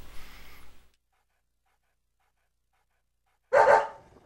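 Dog in the video game Deadly Premonition, giving one short bark and then a second, louder bark after a few seconds of silence.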